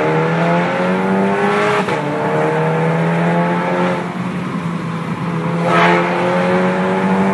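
A Volkswagen Golf MK6 with a stage 2 remap, aftermarket intake and exhaust accelerates hard, its engine note climbing loud and close through several rising pulls with a brief dip between gears.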